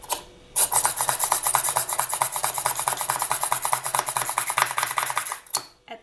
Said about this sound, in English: I'm just going to take this pin drill, push drill actually